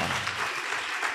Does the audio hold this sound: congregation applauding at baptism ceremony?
yes